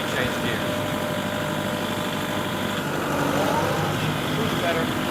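A farm tractor engine runs steadily after a gear change, a continuous close droning hum with a slight rise in intensity midway and no break in the rumble.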